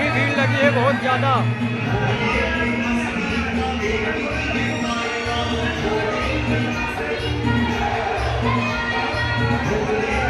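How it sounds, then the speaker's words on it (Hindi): A large, dense crowd mills at the Baba Ghuisarnath Dham temple in Sangipur, Pratapgarh, with continuous babble, shouts and shuffling close by and someone talking over the din. "आप सब लोग देख सकते हैं, भीड़ बहुत ज़्यादा लगी है।"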